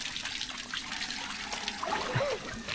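Shower water runs and splashes continuously at low level, with a trickling, dribbling texture and a few brief higher splashes near the end, no speech over it.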